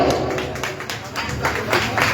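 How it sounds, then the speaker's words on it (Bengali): Audience applause at a music group's stage event, a short burst of scattered clapping from a crowd, moderately loud and slightly uneven, rising toward the end. "একটা জোরে করতালি হোক"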